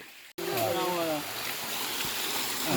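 Water gushes from a broken hose in a farm field, a loud, continuous hissing spray that starts abruptly after a brief gap. A voice shouts over it at first.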